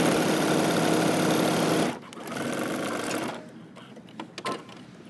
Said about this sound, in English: we're going to continue to stitch 5/8 of an inch all the way down. Pivot, and then sew across the bottom.